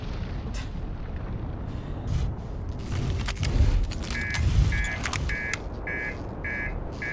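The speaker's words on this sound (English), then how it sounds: "That's the explodey sound." An explosion in the space exploration game Outer Wilds, a deep rumbling boom swelling twice over a low drone, followed by a repeating high electronic beeping alarm as it fades.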